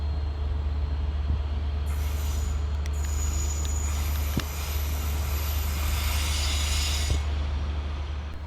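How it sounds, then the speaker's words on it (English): Two coupled Class 153 diesel units on a Transport for Wales service arrive at Cardiff Central station, with a low steady diesel rumble, rolling wheel noise and a loud high-pitched brake squeal through the middle of the approach, no talking. "Arriving next into the station is 153325 and 153927, working the 1641 Transport for Wales service from Bridgend through to Lumley."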